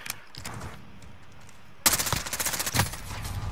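Gunfire in the game Call of Duty Warzone: a distant rattle of shots early on, then a sudden loud burst of rapid automatic fire from about two seconds that keeps going to the end.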